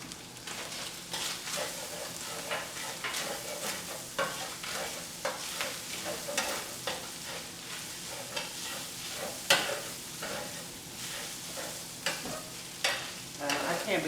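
Onions and garlic stir-fried in a pan for beef noodles, a constant crackling sizzle punctuated by rhythmic scraping strokes of a spatula every second or so, close and fairly loud.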